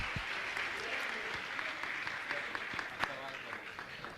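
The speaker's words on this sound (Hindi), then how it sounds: "ताली तो बजाइए इनके लिए" An indoor audience at a Jain religious gathering applauds steadily for a few seconds, a dense, fairly soft patter of clapping with a few sharper claps standing out.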